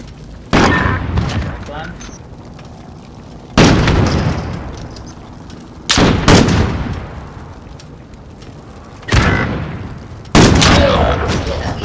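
Sniper rifle shots in a 3v3 sniper-only match of a first-person shooter: five loud, sharp reports at uneven intervals, each ringing out in a long, fading echo.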